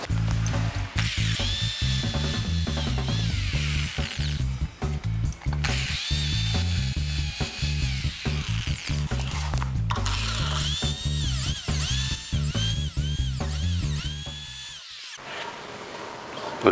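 A power drill with a sharpened bit bores out spot welds on a white Fiat Palio body panel, its motor whining steadily with ratcheting, grinding pulses for about fifteen seconds before cutting off.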